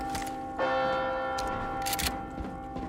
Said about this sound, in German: Geht jetzt dann der Glockenturm wieder los und alle drei durch, oder was?